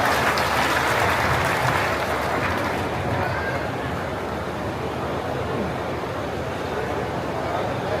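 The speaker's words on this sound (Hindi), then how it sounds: "आप सब जोरदार तालियों से उन्हें आमंत्रित करें" Sustained applause from a large crowd welcoming guests before the Chief Minister's arrival at Jatela Dham, Majra, a dense even clatter of clapping that continues steadily throughout, slightly easing toward the end.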